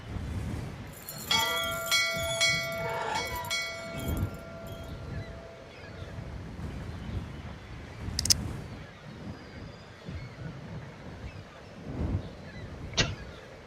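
A bell in the video game Syberia rings with a bright, sustained tone that fades over a few seconds, followed by sparse clanks and sharp high clicks against a quiet ambient background.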